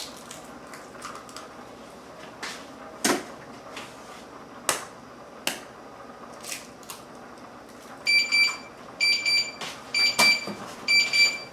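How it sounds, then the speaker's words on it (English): A kitchen timer goes off for sweet potatoes, a series of short, bright repeated beeps in quick bursts near the end, after scattered kitchen clatter and knocks, moderately loud against quiet room noise. "that was the timer telling me it's time to take out the sweet potatoes"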